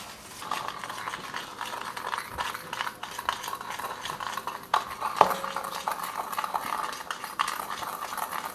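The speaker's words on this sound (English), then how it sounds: "I use this little whisk to whisk it up." A small whisk stirs ingredients in a bowl in a home kitchen, giving a steady, soft scraping and clinking rhythm that runs close and continuous, with a few sharper taps.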